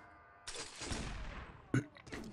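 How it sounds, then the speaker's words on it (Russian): Gunfire from a first-person shooter game map: a sharp burst of shots with a noisy decaying tail, then a brief sharper crack and a few more faint shots in quick succession. "Очень ранний выстрел."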